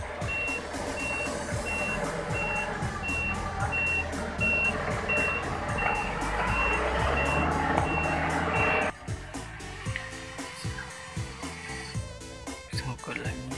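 A dump truck in a convoy, stuck on a narrow road by rice fields, backs up with a loud, steady reversing beep pulsing over its engine rumble. The beeping stops partway through while the engine keeps running.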